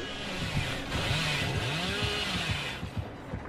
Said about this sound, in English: It's something with a chainsaw. Yeah, Billy.